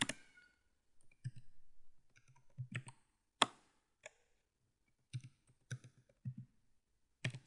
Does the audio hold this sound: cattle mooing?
no